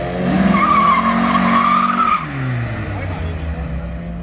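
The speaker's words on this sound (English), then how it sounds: "Join me on my last qualifying run where I lose time understeering through the corner" A race car at Simola Hill Climb understeers through a corner, tires squealing in a long, wavering screech over a loud engine note that drops away as the car exits, with a commentator talking over it.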